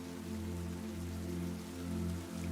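Light drizzle falls steadily with a soft, even hiss over low sustained tones, calm and continuous without any voices.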